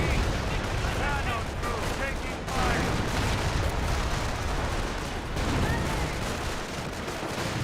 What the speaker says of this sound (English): Looks like I got sector artillery in this sector from the Panzer League player